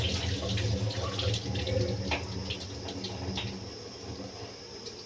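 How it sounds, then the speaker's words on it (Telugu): Rice being washed under a running kitchen tap, a steady close rush of water with splashing and light swirling through the grains, continuous and without any talk. "రైస్ కడిగేసి వాటర్ వేసాను."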